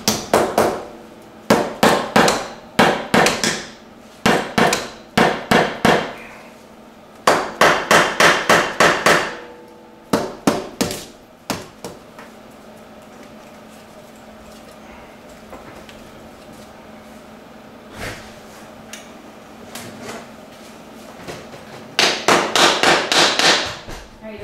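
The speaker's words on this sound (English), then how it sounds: "I'm going to start tapping around the intake with this blow hammer here. Slightly tapping it and get it loose." A hammer taps around the intake manifold of an LT1 engine in a C4 Corvette to work it loose. Sharp metallic blows come in quick clusters of several, with pauses between, and a final burst of rapid strikes.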